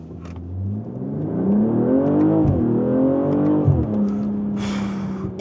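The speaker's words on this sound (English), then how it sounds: "Let's do a quick launch here." A 2025 BMW M240i xDrive Coupé on winter tires launches hard from a standstill, its engine revving up through climbing gears with a brief dip at a shift. The sound is close and loud, and a gusty whoosh follows near the end.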